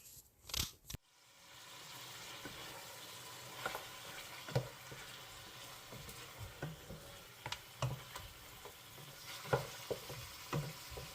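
Onions frying in oil until deep golden for beef haleem, a steady low sizzle with occasional stirring scrapes and clicks of the spoon against the pan, close and moderately quiet throughout.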